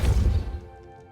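A Depulso spell from Hogwarts Legacy strikes an object with a single loud, close crash and thud that dies away within a second.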